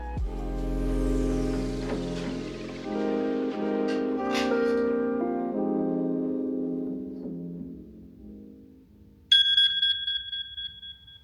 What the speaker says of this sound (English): With the 3:30 a.m. alarm going off, it was time to get ready